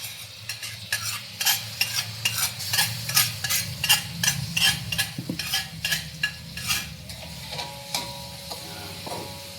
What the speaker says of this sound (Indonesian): Ini goreng bumbu, ini bumbunya aku masukin, apinya jangan besar-besar